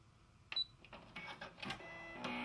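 Brother LB6800 combination sewing and embroidery machine running its automatic thread cutter, a brief whirring mechanical burst with clicks and a rising motor hum, close and moderately loud, no talk.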